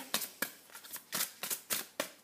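Heart chakra oracle cards are shuffled and handled by hand, giving a series of about seven crisp, papery flicks and riffles at uneven intervals, close and fairly quiet with no talk.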